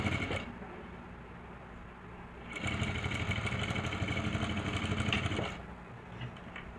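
A sewing machine stitches a double seam on a lehenga blouse, its needle running in a steady, rapid mechanical whir that starts partway through, holds for about three seconds, then stops.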